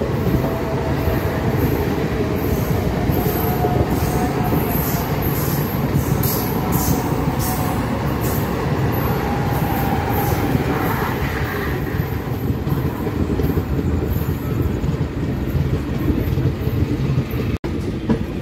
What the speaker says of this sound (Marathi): ही आपली मुंबईची लाईफलाईन आहे, लोकल ट्रेन.